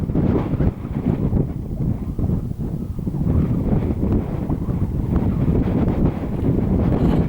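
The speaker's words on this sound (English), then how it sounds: "I bet you can't hear me in the wind." Strong wind roars across an open hillside by Glen Ogle, buffeting the microphone with loud, continuous low rumbling gusts throughout and no talk.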